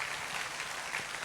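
A church congregation at a grand Christmas celebration claps together in a brief, dense burst of steady applause, close and continuous.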